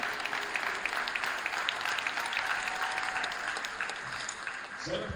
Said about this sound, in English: A big round of applause for our 8th grade Lyon County Lady Lions basketball team